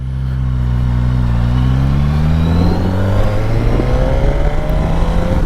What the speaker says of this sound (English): Love the noise this engine makes.